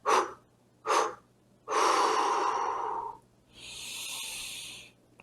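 Deep breaths during a breathing exercise: two short sharp inhales, then a long steady blow lasting over a second, followed by another drawn-out airy exhale, close and clear with no talking.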